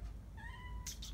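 A kitten gives a single clear meow, outdoors on a cold evening before a snowstorm. The call is mid-close and moderately loud over a low rumble of background noise, followed by a brief rustle.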